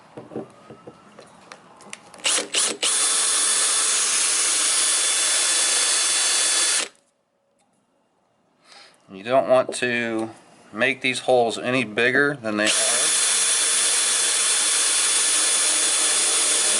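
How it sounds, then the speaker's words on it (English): A power drill whines steadily for several seconds drilling into metal rivets on a vintage Airstream window frame, stops, then starts again after someone speaks close by; loud, high-pitched and continuous. "Drill down into it about halfway."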